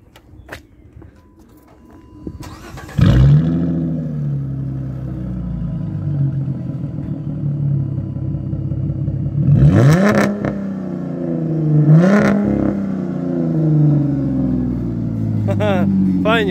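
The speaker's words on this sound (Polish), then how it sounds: "skoro silnik jest fajny, wydech zrobiony, to może odpal" A Dodge Magnum with a modified exhaust cranks and fires up with a loud bark, then settles into a rumbling idle punctuated by two sharp revs, close and prominent throughout.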